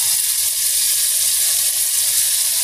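Pieces of meat fry in a pan for khichuri, giving a steady, loud, continuous sizzle with no voices over it.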